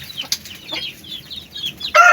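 Pet chickens cluck and chirp at feeding time, a run of short, bright calls close by with small chicks peeping, ending in a louder burst.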